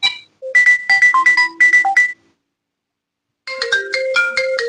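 A Samsung phone plays ringtone previews: a bright run of rhythmic electronic marimba-like notes, a pause of silence, then another melodic tone pattern begins, loud and close.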